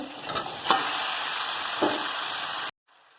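Duck meat and spices stir-fried for curry give a loud, continuous sizzle with a few scraping stirs, ending abruptly into near silence.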